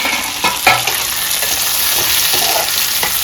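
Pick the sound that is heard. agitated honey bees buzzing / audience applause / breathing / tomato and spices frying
tomato and spices frying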